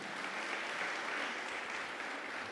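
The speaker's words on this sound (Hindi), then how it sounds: "जोरदार तालियां होनी चाहिए।" Sustained applause from a congregation at an Asian fellowship Friday prayer meeting in a church hall, fairly even and moderately loud, no talk.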